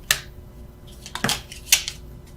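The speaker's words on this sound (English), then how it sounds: "I was just shuffling for the sake of it." Tarot cards being shuffled by hand, giving three separate crisp riffling bursts, close and fairly loud, with short pauses between them and no talking.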